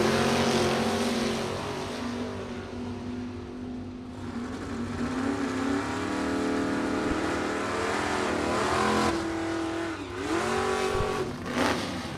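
A drag race between a super stock 1965 Dodge with a 466 engine and a 1971 Vega: loud, steady engine roar with a droning tone that shifts pitch as the cars accelerate down the strip.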